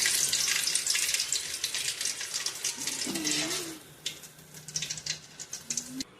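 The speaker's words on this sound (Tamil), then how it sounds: "இப்போ இதில் கொஞ்சமாக கருவேப்பிலை பொரிச்சு எடுத்துக்கலாம்." Curry leaves frying in hot oil while masala peanuts are made, giving a steady, close crackling sizzle throughout, with a faint voice briefly in the middle.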